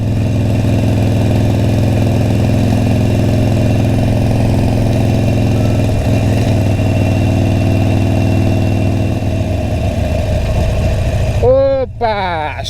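Motorcycle engine on a ride toward Cardoso, droning loud and steady near the microphone with a sustained hum, rising in pitch near the end as the bike speeds up, no talk.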